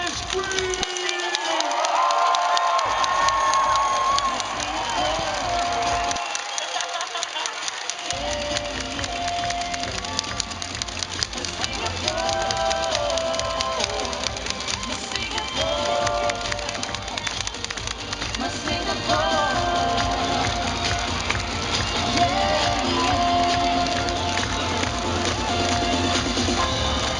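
A large crowd screams and cheers loudly and continuously at the National Day Parade 2010 finale, with music and amplified voices mixed into the roar.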